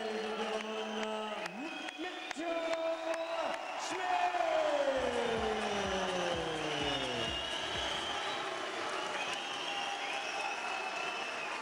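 A large crowd applauds and cheers steadily at a boxing event as fighter Mitchell Smith makes his entrance, a continuous broad roar, with an announcer's voice and music-like tones layered over it.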